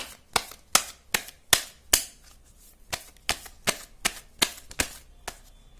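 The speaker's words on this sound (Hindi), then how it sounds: "चलिए शुरू करती हूँ मैं शफलिंग।" Tarot cards shuffled by hand, heard as about a dozen sharp, close snapping slaps in a steady rhythm with short quiet gaps, and no voices.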